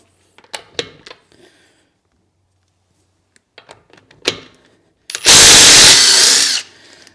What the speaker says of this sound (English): it does eventually crack those wheel nuts off